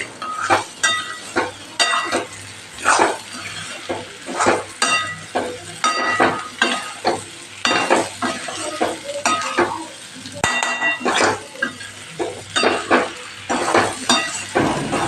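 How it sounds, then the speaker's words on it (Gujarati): Potatoes, peas and carrots sauté in hot oil with masala, a close sizzle underneath while a spoon stirs and scrapes the pan in repeated bursts, with occasional metallic clinks. "અહીંયા આપણે બટેકા વટાણા અને ગાજરને ઉમેરી દેવાનું એ પણ સરસ સાતડી લેવાનું આપણે બધું મસાલા સાથે"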